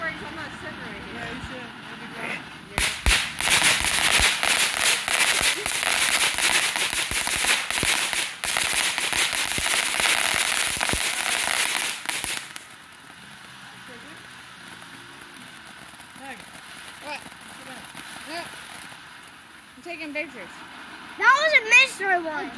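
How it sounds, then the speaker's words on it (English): Backyard fireworks at a July 4th celebration crackle in a dense, loud barrage for about ten seconds, then give way to quieter fizzing and a few whistling rockets near the end, with people talking around them. "Your fireworks on that set right here."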